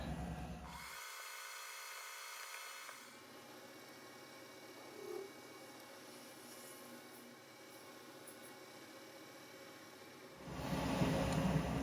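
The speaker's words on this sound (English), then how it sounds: "I'm gonna take and run a drill in there first." A spotting drill runs into a metal part for an engine muffler or spark suppressor, a steady whirring machine drone that holds for several seconds at a low level, with no talking.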